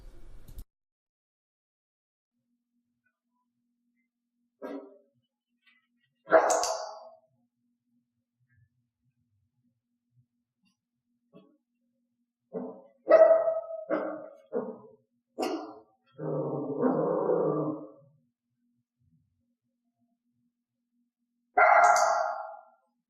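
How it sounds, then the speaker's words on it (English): Sparse, sharp dog barks spread across long silences, some single and some in quick clusters, loud and close. "only clicking for loud, piercing barks"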